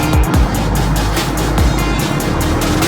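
Heavy street traffic in Saddar, Karachi, with loud close engine noise from passing vehicles, several quick whooshing pass-bys and a constant rushing roar that fills the whole stretch.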